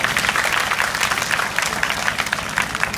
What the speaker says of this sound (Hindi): और जिनको कॉमन लग रहा है उनके लिए डबल ताली बजाकर जोर से आवाज आनी चाहिए